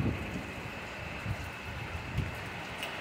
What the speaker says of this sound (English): The wind is off and on. Pretty good wind gusts every now and then.